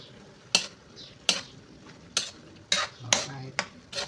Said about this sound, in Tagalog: hindi lang di haluin natin ng konti